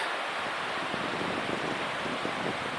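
A mountain stream rushes steadily beside the trail on the climb to Pinchot Pass along the John Muir Trail, with a constant broadband roar and no voices.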